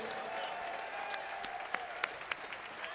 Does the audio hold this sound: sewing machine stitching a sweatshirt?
no